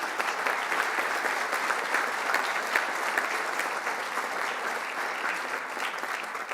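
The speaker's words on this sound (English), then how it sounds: "I ask you to please give them a round of applause." Audience applause at a university commencement ceremony, steady sustained clapping from a large crowd in a hall, filling the whole stretch without pause.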